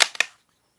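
Gunshot fired at fly targets on a shooting range: a sharp close crack followed by a second quick report, each decaying rapidly into silence.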